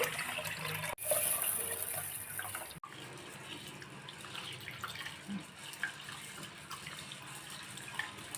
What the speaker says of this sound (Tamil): நல்ல தண்ணியில் எல்லாத்தையும் நல்லா அலசி எடுத்து வச்சுக்கோங்க மொதல் தடவை.